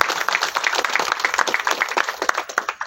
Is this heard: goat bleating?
no